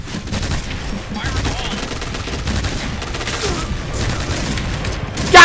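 Gunfire from a rifle firing three-round bursts in the Point Blank shooter game, a dense clatter of shots running steadily through the scene, with another player's voice and a brief loud burst at the end.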